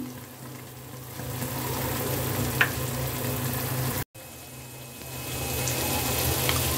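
Homemade red chili masala roasting in oil with salt for Kolhapuri misal, a steady close sizzle and crackle with a couple of brief utensil clicks and a momentary cut in the middle.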